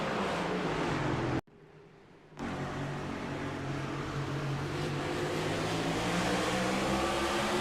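Race car engines roar steadily in a sim racing game at Homestead, loud and continuous. The sound cuts out briefly near the start, then resumes as the cars pull away, with no talk.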